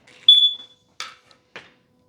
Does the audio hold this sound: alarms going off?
yes